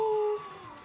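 A puppy gives a short, high, wavering howl that fades within a second, close and fairly loud, with no talking over it.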